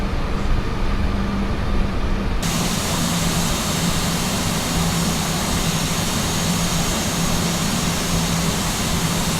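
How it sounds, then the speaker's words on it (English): Airbus A320 jet engines run throttled back during descent, a loud, continuous broadband roar with a steady low hum, heard from inside without speech. "have heard the engines already throttle back"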